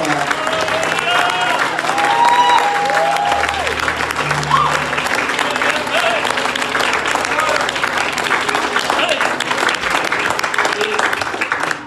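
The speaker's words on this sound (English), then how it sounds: "give him a big hand" A church congregation applauds steadily after a song, with dense clapping that stays loud throughout while scattered voices and faint tones carry on beneath it.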